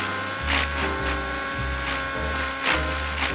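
An RC helicopter rotor in a flight simulator hums in a steady electric buzz whose pitch dips and recovers in repeated pulses, loud and close, with no talking.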